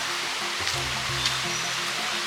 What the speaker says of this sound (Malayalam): നല്ലോണം വെള്ളം വീഴുന്നതിൻ്റെ ഒച്ച കേൾക്കുന്നുണ്ടോ